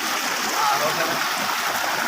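Water gushes out of a Lubi solar-powered pump run by ten panels, a steady, close rushing and splashing that stays even throughout.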